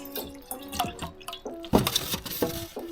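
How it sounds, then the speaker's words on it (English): Water poured into a homemade winemaking vessel gives irregular splashes, drips and gurgles, a bigger splash partway through, close and fairly loud with no talk. "So I'm going to add a little bit more water to this."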